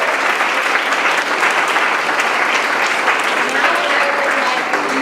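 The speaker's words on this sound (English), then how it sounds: "Please give them another round of applause." Sustained audience applause from a crowd at a Black History Month program, dense and steady throughout, loud and close, with no talk over it.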